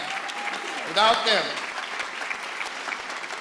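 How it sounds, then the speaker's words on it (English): Applause for a board of trustees at a ribbon-cutting event, moderate clapping from a room of people, with a brief voice rising over it near the first second before the clapping carries on evenly. "we want to give them a big round of applause"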